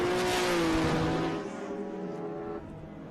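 A nimble little BMW historic race car at Winton accelerates hard, its engine note loud and close with a steady rising drone, then fading slightly as it moves off down the track.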